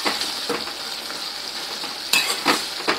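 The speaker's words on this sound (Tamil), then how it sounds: "இப்போ இது நல்லா வதங்கிட்டுருக்கு." Citron pickle with tamarind sautés in a pan, a steady broad sizzle broken by several sharp scraping stirs near the end, close and fairly loud with no voices.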